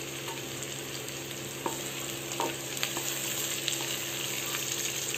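Vermicelli and green chillies fry in a pan with a constant crackling sizzle, broken by a few sharp clicks and scrapes as the mixture is stirred.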